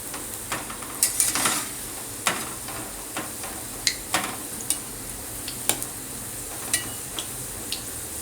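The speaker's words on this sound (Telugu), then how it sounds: "అంతా ఈవెన్గా వేగేలాగా తిప్పేసుకోండి." Stuffed masala bread bonda deep frying in hot oil on high flame, giving a steady bubbling sizzle with scattered sharp ticks and clinks of a spoon turning them, close and without speech.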